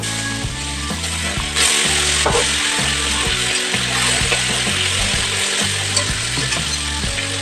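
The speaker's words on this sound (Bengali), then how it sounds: "মাছ ভাজা হচ্ছে" Bata fish fry in hot oil with a steady, close sizzling hiss, while rhythmic stepped tones play underneath.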